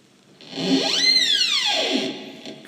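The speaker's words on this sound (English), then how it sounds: "creaky door closes." A long creaking whine bends upward and then slides back down as a door swings, loud and close, lasting about two seconds.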